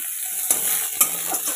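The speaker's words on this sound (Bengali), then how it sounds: "পেঁয়াজ কুচিটা অল্প ভাজা ভাজা হবে" Chopped onion fries in a pan with a constant bright sizzling hiss, broken by two scraping stirs about half a second apart.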